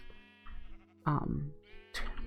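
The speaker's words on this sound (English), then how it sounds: "More sheep have spawned in." Sheep in Minecraft bleat in three separate calls, the middle one loudest and nearest, over a faint background tone.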